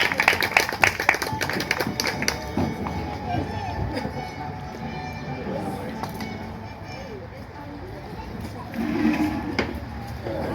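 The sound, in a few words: audience applause for student performers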